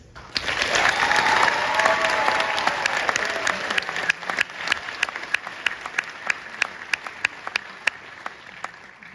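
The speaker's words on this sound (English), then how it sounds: "can I please get another big round of applause to this group of current and soon-to-be doctors" A big round of applause from the audience at a bioengineering department graduation ceremony for PhD students: dense, sustained clapping that gradually thins into scattered individual claps toward the end.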